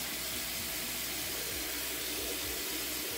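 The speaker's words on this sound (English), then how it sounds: "you could just lean your head down there and rinse the end off" Tap water runs steadily into a sink as a lace wig is rinsed, a soft even splashing with no talk.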